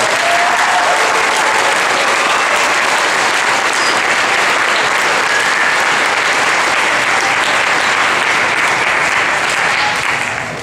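Sustained, loud applause from a school audience after a choir's performance at a Veterans Day program, steady for about ten seconds before tapering slightly at the end.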